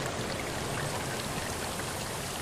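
Heavy rain pouring down in a dense, steady hiss of countless drops, loud and unbroken from start to end with no voices.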